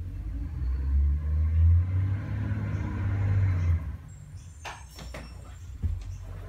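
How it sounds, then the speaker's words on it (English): A garbage truck rumbles outside with a deep, steady low drone that swells and then fades after a few seconds, followed by faint scattered clicks and taps nearby; no voices are heard. "I'm just gonna have to film with the garbage truck in the background."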